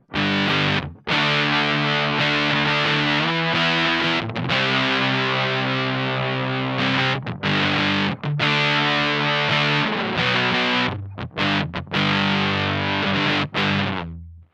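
Heavily distorted electric guitar through a Tym Guitars Black Mud pedal at high gain chugs through loud, saturated chords with brief stops between phrases, thick and buzzy throughout, no voices.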